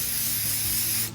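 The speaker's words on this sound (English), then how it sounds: "I'm gonna spray some of this brake clean on it" Brake cleaner hisses from an aerosol can onto a shop towel in one steady, loud spray lasting about a second, cutting off abruptly.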